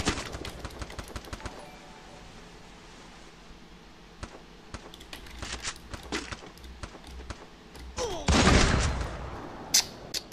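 Video game gunfire, bursts of rapid machine-gun shots and scattered single cracks, sharp and close, with a louder dense volley near the end and players talking in between.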